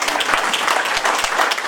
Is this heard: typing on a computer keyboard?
no